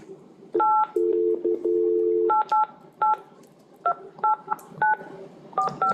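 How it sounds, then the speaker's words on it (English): Telephone keypad tones dialing a number during a live public health briefing, a quick series of short beeps with one longer held tone, clear and close with no talk over them. "We got disconnected. We have to dial it again."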